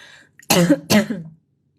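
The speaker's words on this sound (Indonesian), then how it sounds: "Kenapa tiba-tiba batuk?" Two sharp coughs in quick succession, close and fairly loud, after a brief faint murmur.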